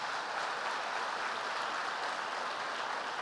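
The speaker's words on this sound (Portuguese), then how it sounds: "Dê um aplauso ao Senhor." A congregation applauds during an evening celebration service with Holy Communion in a church, producing an even, sustained patter of many hands clapping at a moderate level, with no voices over it.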